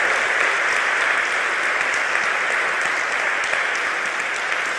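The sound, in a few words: church congregation applauding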